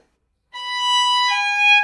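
After a brief silence, a violin plays a sustained bowed note that shifts to another pitch, clear and close.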